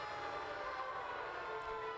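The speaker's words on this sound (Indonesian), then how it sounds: "Sirine berbunyi menandai peringatan detik-detik proklamasi kemerdekaan Republik Indonesia ke-78." A steady, sustained siren drones on without pause, marking Indonesia's 78th Independence Day proclamation moment in Padang Panjang, a broad wailing tone heard from some distance with faint background noise.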